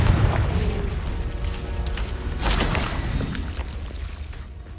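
Spell blasts in Hogwarts Legacy roll out as deep booming explosions with crackling debris, one heavy burst landing midway over a continuous rumbling game soundscape.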